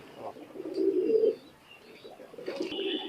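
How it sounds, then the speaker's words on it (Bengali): Imported high-flying pigeons of a Pakistani bloodline coo in low, throaty bursts close by, one swelling call in the middle followed by quieter cooing, with no talk. "পাকিস্তান থেকে ইম্পোর্ট করা কবুতর"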